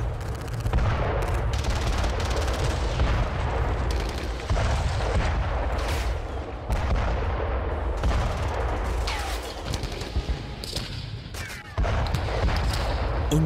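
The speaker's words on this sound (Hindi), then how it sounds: "उन पर दुश्मनों के टैंक और आर्टिलरी ने बेतहाशा हमले शुरू कर दिए।" Tank and artillery fire in a battle sound effect, with continuous loud booming blasts and rapid gunfire bursts layered densely throughout, heavy low rumble beneath sharp cracks and no speech.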